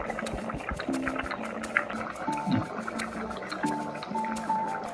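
Rice and water simmer in a pot for mushroom biryani, giving soft, quiet bubbling and light watery gurgles that run continuously under faint kitchen noise.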